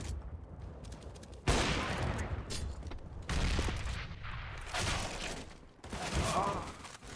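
Rapid sniper rifle shots in CS:GO, loud sharp cracks in quick succession with booming tails, mixed with game noise and faint voices in the background.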